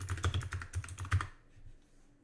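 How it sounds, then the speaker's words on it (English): Quick bursts of keystrokes on a computer keyboard, close and fairly quiet, tapping in a rapid cluster before trailing off into near silence. "type in print string"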